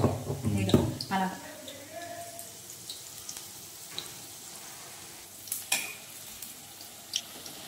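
Punugulu fritters crackle and sizzle in hot oil, loudest at the start and then settling into a softer, steady bubbling with occasional pops, while a voice is faintly present.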